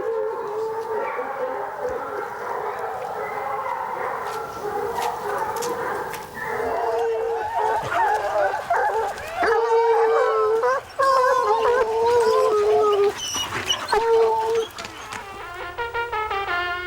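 Hunting hounds in a pack bay and howl together during a stag hunt, a dense, continuous chorus of overlapping wavering cries that swells louder midway and carries on throughout.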